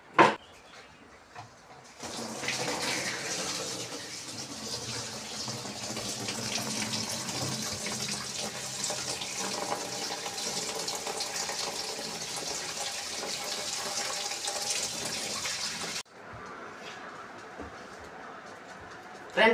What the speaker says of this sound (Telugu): ఫ్రెండ్స్ ఇప్పుడు దీంట్లో వాటర్ పట్టి చూద్దాం.